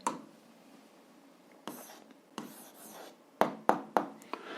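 Chalk or marker writing an answer on a board during a seventh-grade algebra lesson: soft scratchy strokes followed by several sharp taps of dots and short marks, close and quiet.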